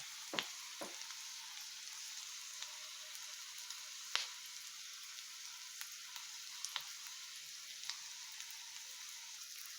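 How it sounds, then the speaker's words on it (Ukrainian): Steady hiss of zucchini frying in a pan, a constant broadband sizzle with occasional sharp pops and crackles spread through; no voices. "поки смажаться наші кабачки"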